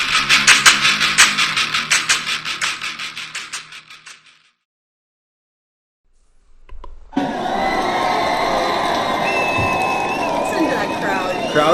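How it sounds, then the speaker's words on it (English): A roaring, cheering crowd swells loud and continuous after a silent gap, preceded by a rhythmic pulsing burst at the start. "Crowd's going wild"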